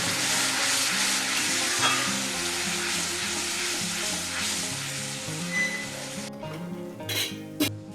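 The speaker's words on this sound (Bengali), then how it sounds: "একটু মশলা ধোয়া জল দিয়ে এটা ভালো করে কষে নিতে হবে" A spice paste with cashews and green chilli sizzles loudly in hot oil with a splash of water for an egg curry, with stirring and clinks of a utensil against the pan. The frying drops away near the end.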